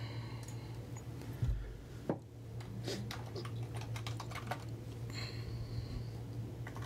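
Typing on a computer keyboard during a live broadcast, a steady run of light key clicks at moderate distance over a constant low electrical hum, with no talking.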